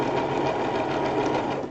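A heavier sewing machine runs a wide embroidery stitch across a coiled rope bowl, giving a loud, steady rapid chatter of the needle throughout.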